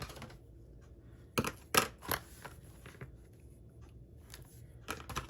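Quiet snips of scissors cutting ribbon, a few sharp crisp clicks spaced irregularly over a faint background hiss.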